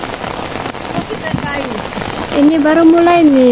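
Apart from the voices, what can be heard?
rain falling during flood season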